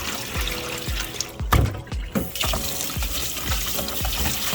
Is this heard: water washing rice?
yes